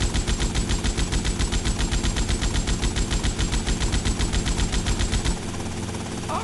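A helicopter-mounted machine gun in a video game fires a rapid, steady stream of loud shots for about five seconds, then cuts out and leaves a quieter rotor drone.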